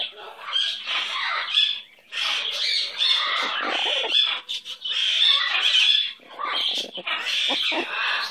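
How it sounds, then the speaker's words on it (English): A pet bird makes rapid, raspy chuckling chatters in close, bursty runs with short pauses, bright and scratchy throughout. "What's so funny, little chucklehead? Who does a chuckle?"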